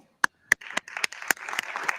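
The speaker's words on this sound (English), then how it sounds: "Oh, Katie, I wish you would stop clapping." A few people clapping at a political debate watch event, sparse, uneven claps starting as single sharp smacks and then thickening into brief, close applause.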